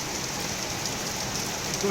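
Rain falls steadily outdoors as a continuous even hiss, with no breaks and no distinct drops.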